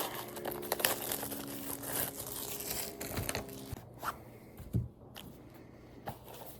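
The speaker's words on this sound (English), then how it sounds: "All right, let's cut this plastic off." Plastic wrap is cut and pulled off a knife box, giving close crinkling and tearing rustles that thin out into a few scattered crackles and soft handling knocks.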